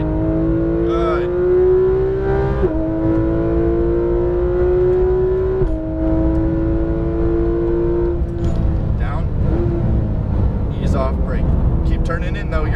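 Porsche 911 GT3 RS engine pulling at full power on a racing track, a loud rising howl through the gears with brief dips at each shift, while an instructor talks over it.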